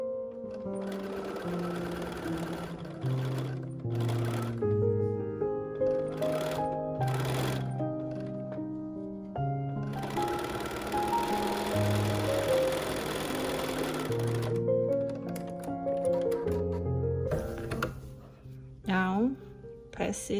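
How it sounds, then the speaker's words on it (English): A sewing machine stitches a quilted pumpkin trivet with a quarter-inch seam allowance, its motor whirring in steady bursts separated by short pauses, close and moderately loud, with a voice speaking at times. "So I'm gonna keep stitching."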